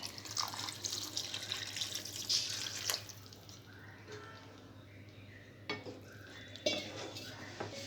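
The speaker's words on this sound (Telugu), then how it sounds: "బెండకాయ ముక్కలు వేసిన తర్వాత కొద్దిగా వాటర్ వేసుకోవాలి." Water splashes and trickles into a pan of okra curry amid kitchen clatter of utensils and metal, with a few sharp clinks, close by and moderately loud.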